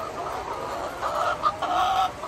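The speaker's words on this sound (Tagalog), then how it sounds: "check natin ang ating mga manok" A crowd of chickens clucks and murmurs continuously nearby in a poultry house, a busy, fairly quiet chatter of many birds.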